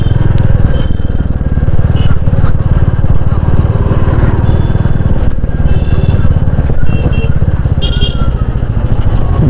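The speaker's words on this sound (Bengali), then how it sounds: "একদম এক্সস্ট সাউন্ড একটা বেশি খুব সুন্দর সাউন্ড আছে।" A Royal Enfield Meteor 350 motorcycle rumbles on a city ride with a loud, steady, close-up exhaust thump, broken by occasional mechanical clatter and road noise, with no voice over it.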